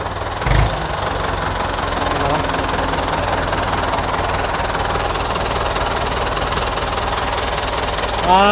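Ford farm tractor engine idling close by in a steady, rough, knocking rumble that runs throughout with a brief louder thump near the start, while someone talks over it.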